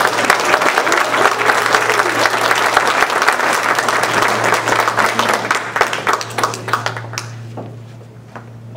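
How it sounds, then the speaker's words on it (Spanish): A church congregation bursts into sustained, loud applause, many hands clapping together in a dense roar that thins out near the end to a few scattered claps, with a steady low hum beneath. "Vamos a darle un aplauso al Señor"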